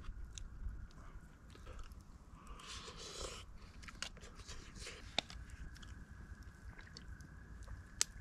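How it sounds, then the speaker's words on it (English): Close, quiet chewing and biting of a campfire-cooked meal eaten outdoors, with soft repeated crunching and mouth sounds over a faint background and the occasional small click. "I won't make you watch me eat the rest of this here."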